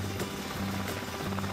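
A rescue helicopter flies steadily at moderate distance, its rotor and engine making a continuous low drone with faint periodic pulsing and no voices.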